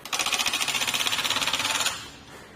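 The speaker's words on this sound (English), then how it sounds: "You can hear that ratcheting mechanism at work" A RockyMounts GuideRail hitch bike rack on a 2020 Toyota ratchets quickly, a rapid, even run of about twenty close clicks lasting under two seconds before stopping.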